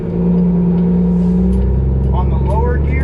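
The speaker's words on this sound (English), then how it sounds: "I'm gonna shift kind of quick." A truck with a 10-speed transmission drones loudly, its engine pitch dropping and then climbing as the driver shifts gears quickly, with a voice briefly audible over the engine.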